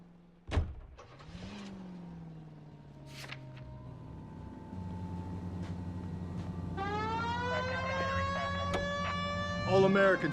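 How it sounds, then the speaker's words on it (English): A police car siren in the video game L.A. Noire, set in Los Angeles, wails steadily and loudly over a car engine hum, rising into a stronger, harmonic-rich tone partway through. "We have a siren."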